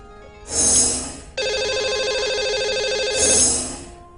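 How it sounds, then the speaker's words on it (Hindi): Phone-line jingle as a call is placed to a lucky caller on a live TV show: a bright swelling chime, then a steady electronic ringing tone, then the chime again, loud and clear with no talk. "अब इन्हें हम लगाएंगे कॉल और करेंगे बात"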